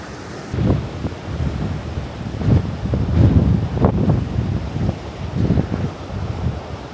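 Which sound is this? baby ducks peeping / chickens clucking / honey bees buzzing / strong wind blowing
strong wind blowing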